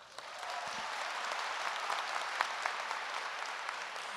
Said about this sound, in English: So everyone give him a round of applause.